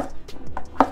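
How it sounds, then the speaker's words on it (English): Knife cutting buttercup squash slices into cubes on a cutting board, a few quick close chops with a sharper knock against the board near the end, loud and dry with no talking. "I'll take those slices and slice them again the other direction so that I get little"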